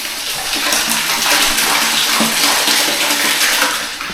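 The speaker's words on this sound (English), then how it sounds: "There's water running in to our septic tank from the stream." Stream water pours steadily into a concrete septic tank at an off-grid site, a loud, continuous splashing rush that holds for the whole stretch with no voices.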